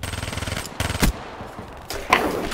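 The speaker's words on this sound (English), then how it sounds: "If you miss your first few shots with the Vesper" Rapid automatic fire from the Vesper gun in a video game, close bursts of repeated shots with short pauses between them.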